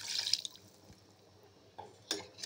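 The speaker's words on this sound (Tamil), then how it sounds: "தண்ணி சேர்க்குறோம்" Water is poured into a chicken curry gravy in a home kitchen, giving a few faint, short splashes and trickles separated by quiet pauses.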